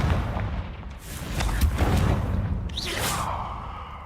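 A Confringo fire spell blast in the Hogwarts Legacy video game, a booming, rumbling explosion with whooshing bursts that swell and roll on over several seconds, loud and close, with no talking.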